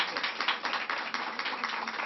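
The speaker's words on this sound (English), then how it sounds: "Let's give her a round of applause." Audience applause at a community gathering on gun violence, a dense, steady patter of many hands clapping through the whole short stretch, moderately loud with no talk over it.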